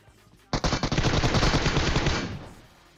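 A loud, rapid burst of automatic gunfire from the mobile battle royale game PUBG Mobile, lasting about two seconds before it cuts off, with no speech over it.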